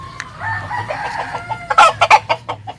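A white-gray gamefowl rooster clucking up close, a few low murmurs building into a burst of loud, rapid clucks near the end.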